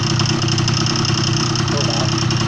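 A modified Honda Dio two-stroke scooter with a water-cooled 54 mm hand-built cylinder runs steadily at close range, a continuous buzzing drone with slight pulsing and no pauses.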